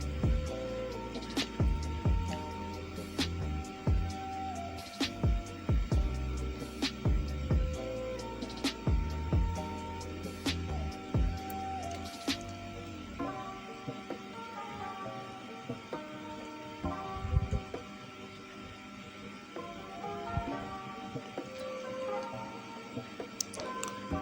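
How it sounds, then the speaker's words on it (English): Sewing machine stitching danshiki fabric: a steady, rapid mechanical whirr with rhythmic ticking needle strokes, close and continuous for the whole stretch, slowing and quieting slightly toward the end, with no talking. "Then I'll continue sewing."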